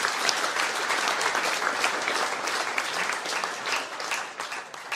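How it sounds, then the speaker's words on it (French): At a conference, a room full of people breaks into steady applause that holds for several seconds before easing slightly toward the end. "Encore, applaudissez-le"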